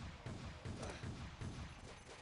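Rapid machine gun fire in the video game Hired Team: Trial Gold, a quick run of repeated bursts at steady rhythm, fairly faint and heard alone.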